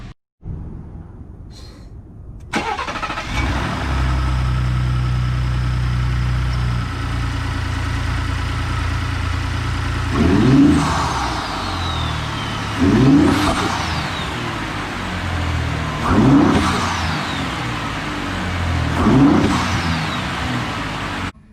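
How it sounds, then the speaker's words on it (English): Ford F150 engine fitted with an AFE cold air intake and turbos idles steadily, then revs four times in sharp, evenly spaced bursts that swell and fall back to idle, close and loud with no talk. "Revved it up a little bit, and I can really hear them a lot louder than with the stock air filter system"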